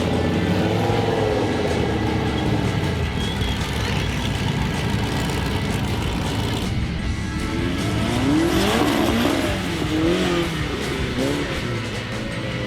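4x4 trial trucks racing through a speed section on a wet grass course in New Zealand, engines droning and revving continuously, with gear changes and rising whines as a truck accelerates past, loud and steady throughout.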